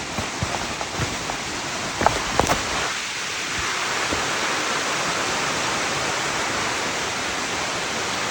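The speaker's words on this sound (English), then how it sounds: "A little creek that goes right down the middle." A small creek flows down the middle of a wooded trail, a steady broadband rush of water with a few brief knocks early on, close and continuous with no talking.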